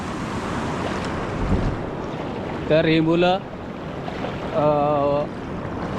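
Fast-flowing Jharkal river water on the Maharashtra–Madhya Pradesh border roars steadily and close, mixed with wind buffeting, while people talk briefly over it.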